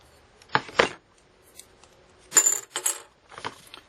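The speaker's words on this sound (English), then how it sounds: "I love this snip. Cut through aluminum like butter." Tin snips cutting aluminum sheet, heard as a few sharp, close metallic snips and crunches in short bursts separated by quiet pauses.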